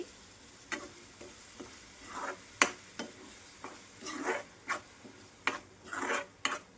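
Coriander, ginger, garlic and cumin paste frying in hot oil for an Andhra-style fish curry, with irregular bursts of sizzling and spattering alongside the scrape of stirring, close and moderately loud.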